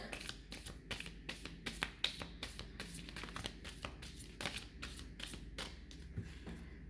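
Soft, irregular riffling and flicking of cards, close by and fairly quiet, repeating in quick bursts.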